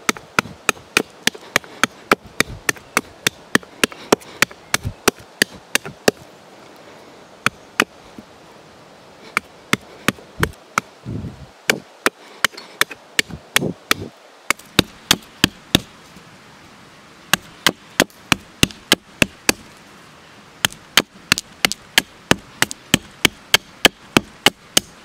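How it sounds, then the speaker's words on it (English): A knife chops the ends of sticks into points outdoors in the bush, giving dozens of crisp, close wooden chops in quick irregular bursts separated by short pauses, with no talking. "chop down the ends so that they're nice and pointy"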